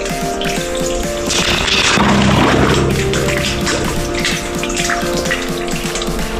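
Water flows and splashes steadily and loudly close by, a dense continuous rush in an outdoor rural setting during hot weather.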